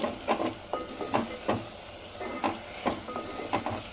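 A spoon scrapes and stirs spices through a besan mixture in a hot pan, with roughly a dozen rhythmic close strokes over a soft, steady sizzle and no talking.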